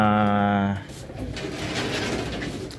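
Racing pigeons cooing briefly while being fed, followed by rustling and shuffling, with someone talking over the birds.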